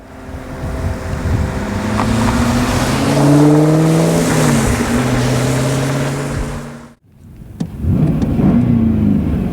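A 2002 Chevrolet Camaro SS with a 6-speed engine drones and climbs through the revs while driving, with heavy wind rush. The sound cuts out briefly near the end, then the engine rises again.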